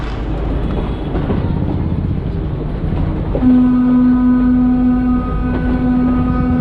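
Rumble of a train running on rails between Nangal and Bhakra, steady and loud throughout, with a sustained horn-like tone joining partway through and holding to the end.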